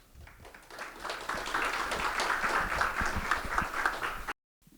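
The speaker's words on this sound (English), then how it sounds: "let's give them all a round of applause now." Audience applause for school board candidates at a community forum, a steady wash of clapping from a crowd that swells and holds for about four seconds before cutting off abruptly.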